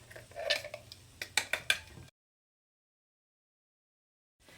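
A spoon clinks and scrapes against a bowl while chopped dates are mixed, with a few sharp taps in quick succession before the sound cuts to silence.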